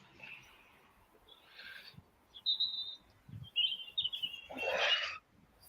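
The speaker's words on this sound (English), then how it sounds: "It's just nice to be out amongst the birds." Birds chirping outdoors by the water during a fishing trip, scattered short tweets and calls at moderate distance over quiet background, with a louder rustle near the end.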